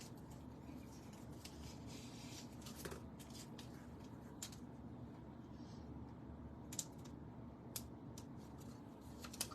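Scissors snip at something up close, with a few quiet, sharp cuts spaced irregularly over a low, steady background hum.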